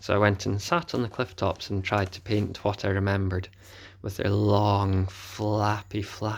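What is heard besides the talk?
No everyday noise stands out behind the speech.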